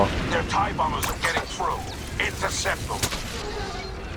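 Blaster gunfire and explosions from Star Wars Battlefront 2 rattle in quick bursts and cracks over continuous game noise, with a voice talking in the background throughout.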